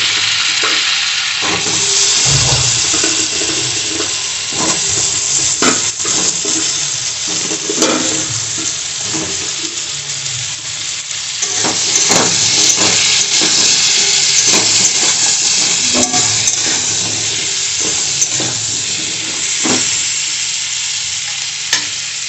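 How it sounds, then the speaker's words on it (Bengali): Loud, steady sizzling of pointed gourd frying in oil, with occasional scraping stirs and clinks from a spatula throughout. "এবার আমি পটলগুলো ভেজে নেব"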